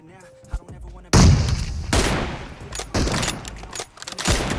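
Gunfire from the PUBG Mobile game, including M24 sniper shots, bursts out in several loud, sharp reports spaced about a second apart, each with a ringing tail, over faint background music.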